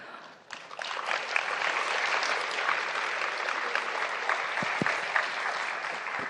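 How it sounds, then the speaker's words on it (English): Sustained applause from a large audience after a lecture, steady clapping filling the room for several seconds after a brief quiet start. "with a round of applause."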